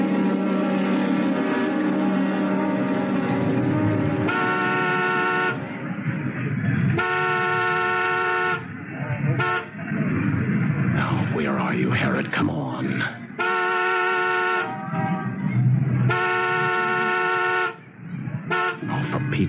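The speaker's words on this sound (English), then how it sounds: "honk the horn as a reminder. Make it two long, one short." A car horn honks in a signal pattern of long blasts with a shorter one between them. The honks repeat over a loud engine and traffic rumble, and voices speak between them.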